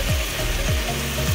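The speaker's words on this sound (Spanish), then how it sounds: "Estamos friendo nuestra papita." Potatoes sizzle steadily in hot oil, a dense continuous frying hiss with occasional soft clinks and stirring noises, loud and close, with no talking.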